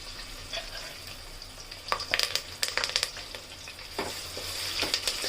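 Chopped onion, green chillies and curry leaves fry in hot oil for a village-style boti fry. A steady low sizzle is broken by sharper crackles and scraping stirs in the middle, and there is no talking.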